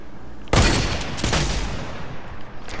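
Video game gunfire bursts out loud and abruptly, a dense rapid volley followed by a second burst and a sustained rattling tail, with no talking.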